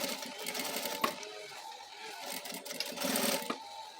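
Small sewing machine stitching a fabric baby pharmacy case, running in quick bursts of rapid mechanical clatter with short pauses and shifts in speed, close and moderately loud.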